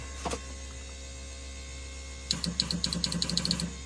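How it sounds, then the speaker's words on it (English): A nitrous spool solenoid clicks inside a truck cab, a quick run of sharp, even clicks starting partway through after a lone click, over a low steady hum. "let's see if the spool solenoid is actually clicking"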